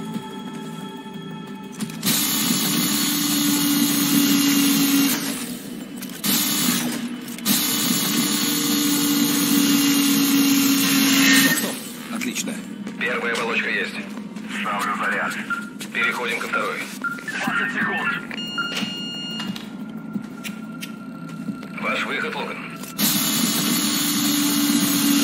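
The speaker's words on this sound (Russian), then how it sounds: "Там задняя пластина, глубоко не сверлите." Drilling through a back plate in the Call of Duty Ghosts video game, a loud sustained mechanical whine that comes in long stretches broken by short gaps, with radio-style voices talking in between.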